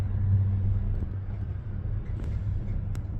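A slow, bumper-to-bumper traffic jam of cars on a secondary road near Créteil at night in the snow gives off a steady low engine rumble and road noise, with faint distant clunks and no speech.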